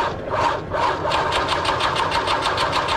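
A starter motor cranks an engine through an overly long 4-gauge cable, a steady, rapid mechanical whirring with a pulsing rhythm that runs nonstop and close for the whole stretch.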